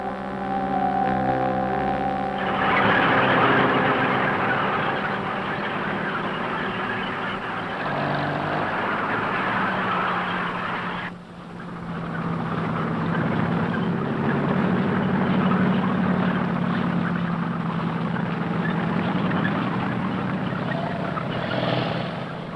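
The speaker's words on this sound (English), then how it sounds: "The panzers are now driving towards Smolensk" German panzer tanks of World War II driving toward Smolensk, a loud continuous engine roar with grinding tracks that holds steady, dips briefly midway, then resumes with rumbling and clattering.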